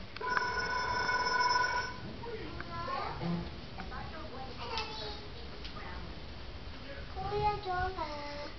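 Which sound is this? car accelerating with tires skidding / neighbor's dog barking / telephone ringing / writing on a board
telephone ringing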